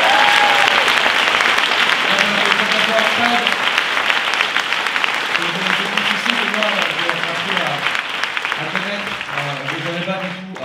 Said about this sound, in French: vous pouvez applaudir très très fort